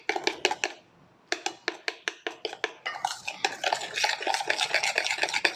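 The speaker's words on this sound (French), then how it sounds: "Allez, on mélange, on mélange, on mélange, on mélange, on mélange." Poppy seed lemon cake batter being stirred by hand in a bowl, with a fast run of close, rhythmic scraping strokes that quickens into continuous mixing after a brief pause.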